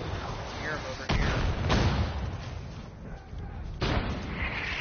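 Enemy mortar fire in the video game Far Cry 5 sounds as a few sharp booms over a noisy battlefield background, with talk faintly underneath.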